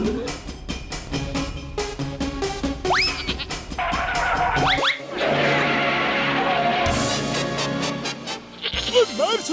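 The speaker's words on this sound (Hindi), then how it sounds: "घसीटा राम को बकरी बना दिया यार" A cartoon goat bleats in a 3D animated kids' comedy, the bleat rising over busy background music, springy sound effects and characters' voices.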